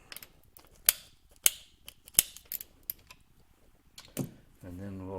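A part on a 1930 Stover CT1 hit-and-miss engine under refurbishment is tightened with a tool, giving sharp, spaced metallic clicks and ratchet-like ticks close by, followed by a voice.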